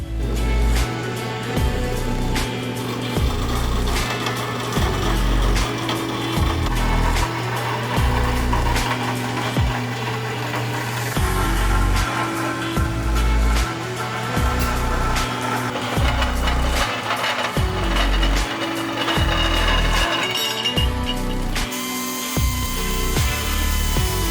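Power saw cutting through a modified skid plate on a Toyota 4Runner with KDSS, a continuous loud grinding whine with rough, fluctuating bursts throughout, no talking.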